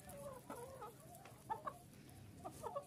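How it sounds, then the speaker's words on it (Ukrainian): Laying hens cluck and murmur quietly nearby on a farm, a scattered flock chattering with occasional sharper calls over faint outdoor background. "Випускаю курочок на прогулянку."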